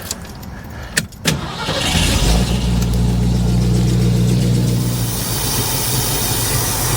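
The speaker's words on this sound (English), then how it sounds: "I'm gonna try starting it. See what kind of idle we got" A 1966 Ford Ranchero engine cranks briefly, catches and settles into a steady, fairly loud idle close by, with a couple of sharp clicks at the start and no voices.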